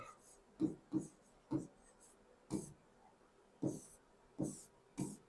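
Pen or chalk strokes writing a word during a horticulture class, a series of short scratchy strokes in bursts of about one per half second, close and fairly quiet with no talk.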